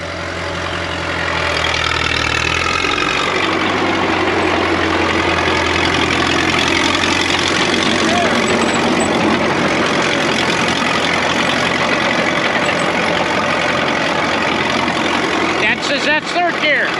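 A rebuilt Caterpillar D4 bulldozer engine runs loud and close, a steady diesel rumble after starting up, with some clanking near the end.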